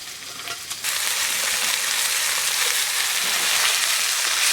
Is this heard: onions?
yes